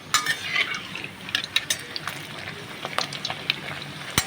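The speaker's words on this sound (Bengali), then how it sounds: "দেখুন বেশ সুন্দর ভাজা হচ্ছে" A Mughlai paratha fries in oil in a wok over a low flame, giving a soft, steady crackle with a few sharp clinks of a utensil against the pan. No one speaks.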